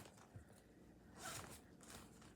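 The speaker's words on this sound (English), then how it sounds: "zipper's stuck on something in this." A stuck zipper on a bag rasps in short, quiet tugs and scrapes, catching and pulling unevenly, close by with no talking.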